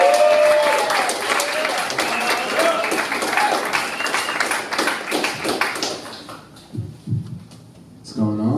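A comedy showcase audience applauds and cheers to welcome a comedian, loud dense clapping from a crowd that fades after several seconds as a voice begins speaking.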